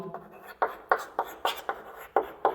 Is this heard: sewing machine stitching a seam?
no